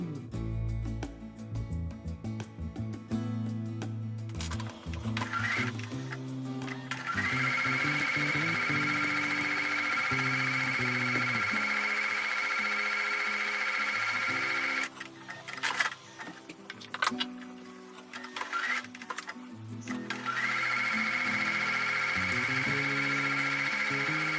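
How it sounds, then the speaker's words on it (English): A home sewing machine stitches a quarter-inch seam on a quilt block in long steady runs, a fast mechanical whir with brief pauses between passes, close and alone with no talking. "I'm going to take this over to the sewing machine, and this time I'm going to sew a 1/4 inch on both sides of the drawn line"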